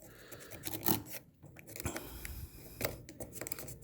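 A screwdriver scrapes and breaks up old solder on a KFX 700, giving irregular close scratchy rasps and small clicks over a low background, alone without speech.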